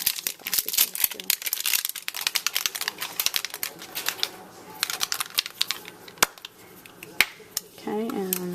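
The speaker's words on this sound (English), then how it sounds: "I'll take this plastic off of" Thin plastic film is peeled off a craft stamp up close: a quick run of crinkly crackles and sharp ticks, with a faint short hum near the end.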